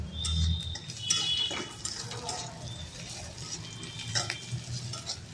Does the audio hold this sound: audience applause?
no